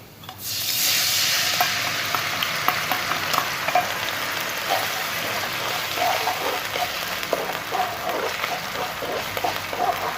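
Beef stir-frying in oyster sauce in a pan hisses loudly as sauce hits the hot metal, a steady bright sizzle with scattered pops and crackles running throughout.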